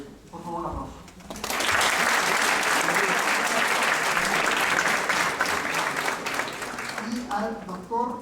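Audience applause at an academic event, loud and sustained for about six seconds, with a voice speaking before it starts and again as it fades.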